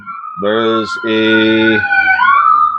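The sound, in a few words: ambulance siren passing outside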